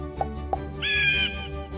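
An eagle calling: a couple of short sharp chirps followed by a longer, shrill, whistling scream, close and clear, with no talking.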